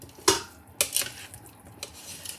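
A utensil scrapes and clinks against a bowl of potato salad in a few quick, close strokes, with short pauses between, alone and without talk.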